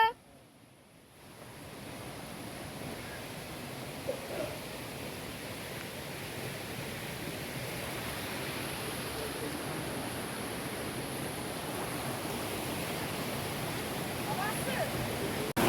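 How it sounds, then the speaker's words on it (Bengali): Bamni Falls waterfall in Purulia, a broad, steady roar of rushing water that swells in from near quiet and stays constant and full, with no talk over it. "আমরা এখন যাব, এখন বামনি ফলসে যাচ্ছি।"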